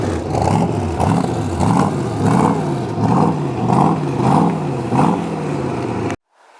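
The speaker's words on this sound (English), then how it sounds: "People ask me, why do you rev the engine so much? It's an American V8, such a beautiful sound." A loud 1967 Corvette V8 engine revs over and over in a steady rhythmic pulse of rising and falling roars, then cuts off abruptly.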